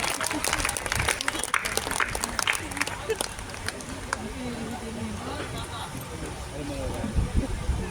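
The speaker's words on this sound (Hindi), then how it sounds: "एक बार भरपूर तालियों से स्वागत कीजिए।" Applause greets a poet taking the stage at a Hindi kavi sammelan poetry gathering, a dense patter of many hands clapping that rises and thins, with crowd noise and speech mixed in underneath.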